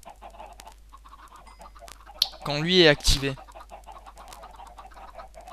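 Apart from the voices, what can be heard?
chickens clucking in a video game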